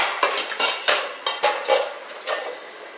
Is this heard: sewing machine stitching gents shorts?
no